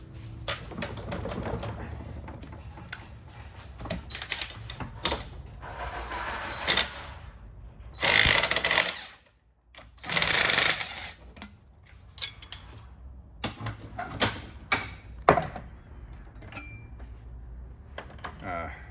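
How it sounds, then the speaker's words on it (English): A strap wrench working on an ORI STX strut during a rebuild produces irregular metallic clicks, clinks and ratcheting scrapes, with two louder sustained grinding bursts in the middle, and a person talks at times. "Also use a strap wrench to do this part"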